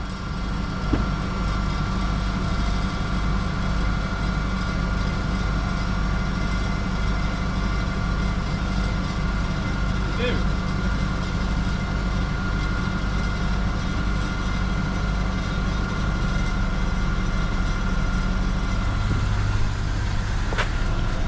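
A van engine runs at a steady low idle-like rumble, close by, as the van creeps forward on a building site with the handbrake released; the drone holds throughout with a slight rise near the end.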